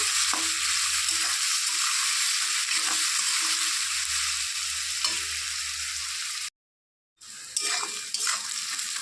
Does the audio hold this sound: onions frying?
yes